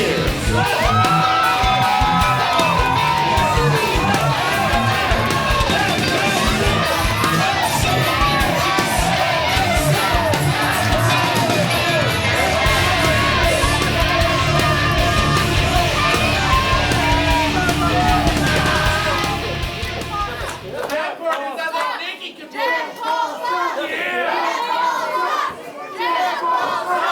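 A wrestling crowd at a live show cheers and yells in a loud, sustained roar that fills the room, with children's voices mixed in. The noise drops suddenly near the end, leaving scattered shouts and chatter.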